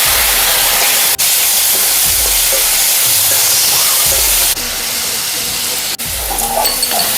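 Loud, steady sizzling and hissing of ripe tomatoes frying in hot oil with chillies and curry leaves, with a couple of sharp breaks where the sound briefly cuts out.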